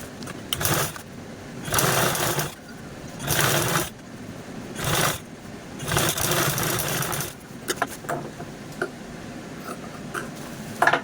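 A sewing machine stitches fabric for a storage bag made from a blouse piece, running in several loud bursts of a second or so separated by short pauses, with lighter handling clicks toward the end.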